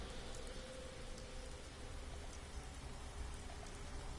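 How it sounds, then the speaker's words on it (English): Steady rain falls in a post-apocalyptic open-world game on PS4, a dense, even hiss of drops on surfaces with a low rumbling bed, continuous and fairly close for the whole stretch, with no voices. "I think the rain helps to mute footsteps a little bit."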